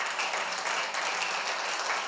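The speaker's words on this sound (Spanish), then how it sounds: "démosle un aplauso al Señor" Steady, dense applause from a church congregation fills the room for about two seconds, a continuous wash of many hands clapping at even loudness with no talk over it.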